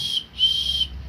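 A tour guide gives two short, shrill whistle blasts close by, each sharp and piercing, with a brief gap between them.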